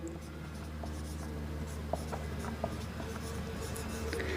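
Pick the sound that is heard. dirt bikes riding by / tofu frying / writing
writing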